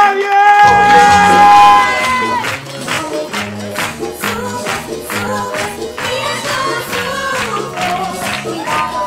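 A concert crowd cheers, whoops and yells to welcome the cumbia band onto the stage, loud and close, with shouting voices rising over music and clapping.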